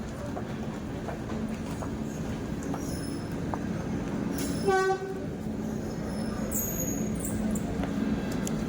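A train moving through a railway station gives a steady rumble and clatter throughout, with a brief horn or squeal near the middle, heard from the platform and stairs with no talk.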